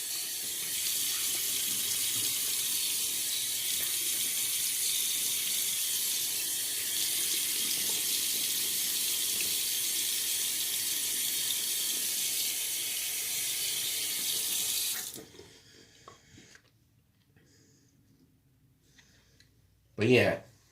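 Tap water runs steadily and fairly loud into a sink while the face is re-wet during a shave with a Gillette 48-50 Super Speed razor, then cuts off at about 15 seconds, followed by quiet handling and a brief splash near the end.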